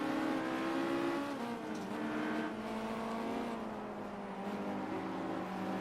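Damaged Audi R8 V10 race car at Zolder in Project Cars, its engine droning loud and close with rising and falling pitch through gear changes, steady and unbroken, no voices.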